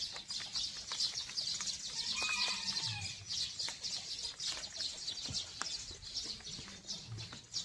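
Chicken-like birds, White Chabo bantams, at Jeonju Zoo give faint scattered chirps and short clucks, with occasional wing flutters, over a soft outdoor background.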